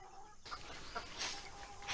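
Several hens cluck and chatter close by in short bursts on a homestead, with a steady farmyard background and no talking.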